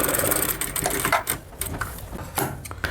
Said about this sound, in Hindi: यहाँ से हमने सिलाई लगाना है कुछ इस तरह से।